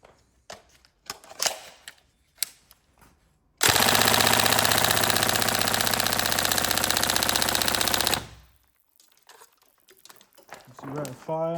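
Tokyo Marui MK18 Next Gen AEG airsoft rifle with a performance build and high rate of fire, firing one dense, rapid full-auto burst of about four and a half seconds, loud and close. Quieter handling clicks come before and after.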